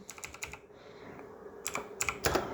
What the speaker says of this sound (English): Just quickly type the current location